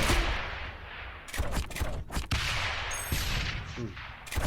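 Mortar towers fire in the tower-defense game Rogue Tower as a series of sharp, fairly faint booms and impacts at irregular intervals, with other game effects between them.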